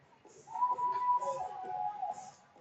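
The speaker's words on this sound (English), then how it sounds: "So there's a whistle for offside with 1:15 left in the period now." Referee's whistle blown for offside during a youth hockey game in a rink, a sustained shrill tone lasting about two seconds, moderately close, over arena crowd noise.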